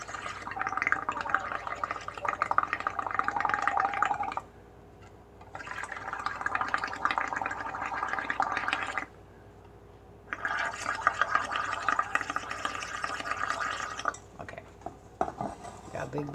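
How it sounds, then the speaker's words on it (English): Bubbly paint water being stirred briskly in a container to make bubbles for bubble paper, three long bursts of sloshing, clinking agitation separated by short quiet pauses, close and fairly faint. "big bunch of bubbles going on here"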